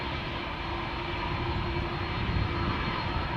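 A Bulgaria Air Embraer jet departing Amsterdam Schiphol gives a steady, loud engine roar with a sustained whine, close by and constant, with no voices over it.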